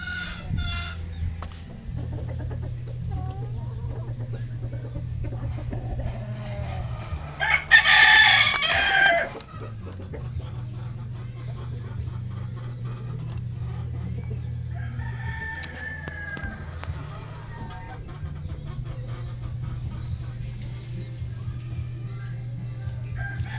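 A White Hatch gamefowl rooster crows once, loud and close, over a steady low hum, with faint clucks and bird calls around it afterward.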